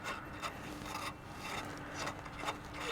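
Rust is scrubbed off a part of a Ford CLT9000 truck with repeated rough, rasping strokes in an irregular rhythm, heard up close with no talking.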